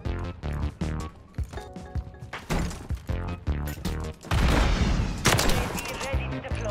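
Sniper rifle shots in Call of Duty Search and Destroy, a series of sharp, punchy reports and impacts in rapid succession amid dense game noise, with a voice talking over the action.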